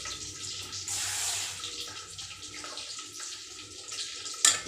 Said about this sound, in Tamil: தண்ணி ஊற்றி வைக்கிறேன்.